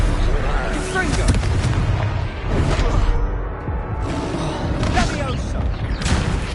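A Confringo fire-blast spell explodes during a duel in Hogwarts Legacy, several loud, booming bursts at close range in quick succession over a dense, continuous din of combat, with voices speaking underneath.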